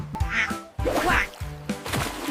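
A duck quacks several times in quick succession within a children's nursery rhyme song, the quacks close and fairly loud over music.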